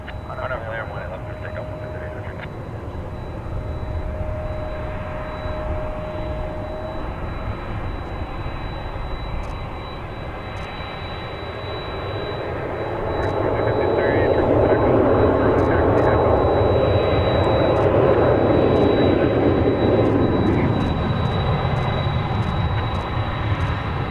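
A Boeing 777 airliner at DFW Airport gives a broad, distant engine roar. The roar swells louder about halfway through and holds, with faint camera-shutter clicks and some background talk.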